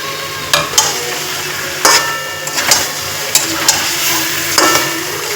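Chicken pieces and potatoes stir-fried in a thick spice paste for a home-style chicken curry, a steady sizzle broken by several sharp spatula scrapes and clinks against the pan, close and fairly loud, no talk.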